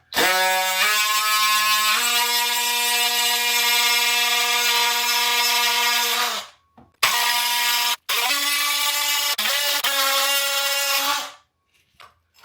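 A power tool cuts a notch into a floor tile that is already set, giving a loud, steady, high-pitched whine. It runs for about six seconds, breaks off briefly, then returns for several more seconds before stopping.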